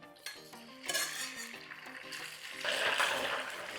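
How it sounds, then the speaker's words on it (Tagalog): Second batch of tofu being fried in a pan. Utensils clink and scrape against the pan over a soft sizzle, and a louder hiss of frying swells toward the end, all close up with no talking. "iprito muna natin itong pangalawang batch ng tokwa"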